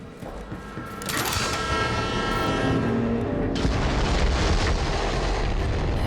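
Train in the video game Borderlands 3, a loud rumbling roar that swells after the first second, with a sustained high metallic screech and harsh noise continuing to the end.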